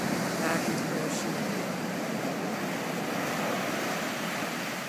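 Ocean surf washing up and drawing back on Laguna Beach on a sunny day, a steady broad roar of water with gusty wind noise over the microphone, continuous and fairly close throughout.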